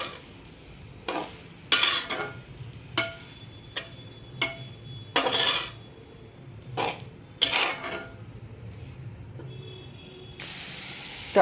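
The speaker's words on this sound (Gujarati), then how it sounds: "હવે આપણે આમાં ગાજર નાખશું." Grated carrots for carrot halwa are stirred in a pan, giving a string of irregular, fairly close scraping swishes separated by quiet pauses, with a brighter steady hiss at the end and no voices.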